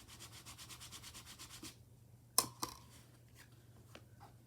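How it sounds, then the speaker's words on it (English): Quiet, rhythmic rubbing strokes burnish paper foliage onto a gift card envelope, about a dozen quick even passes, followed by a few soft clicks and light handling noises. "I'll give that a little bit of a burnish."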